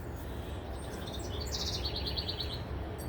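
Several cardinals chirp in a garden, a quick run of bright, repeated tweets standing out over steady background noise, fairly distant.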